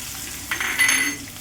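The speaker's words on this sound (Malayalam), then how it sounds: "എണ്ണ ചൂടായി വരുമ്പോഴത്തേന് കടുകിട്ട് പൊട്ടിക്കണം" Mustard seeds crackle and splutter in hot coconut oil in a wok while chicken roast is being made, giving a soft, close sizzle with a short burst of popping in the middle and no talking.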